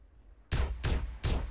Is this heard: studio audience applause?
no